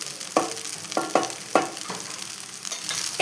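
Cooked rice being stirred with garlic chili powder, several distinct scraping, clacking strokes of a spoon against the pan in an irregular rhythm, close and clear, with a faint sizzle beneath.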